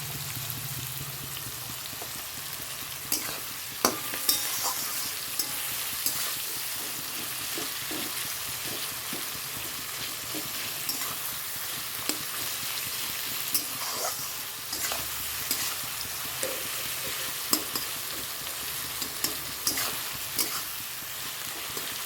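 Salted onion fries in a pan, giving a continuous, fairly quiet sizzle with scattered light taps and scrapes from stirring throughout. No one speaks.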